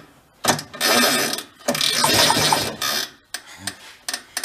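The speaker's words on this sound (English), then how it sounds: "Pull start makes a weird noise" The pull starter on an antique snowmobile engine is yanked, giving loud ratcheting, whirring mechanical bursts with rough clicking, followed by shorter clattering pulls.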